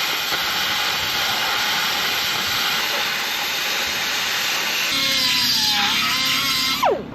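At a car show, a gas cutting torch gives off a loud, steady, close hiss that lasts the whole time, with a brief rising and falling whine near the end.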